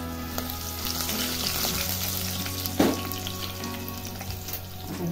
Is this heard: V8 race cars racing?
no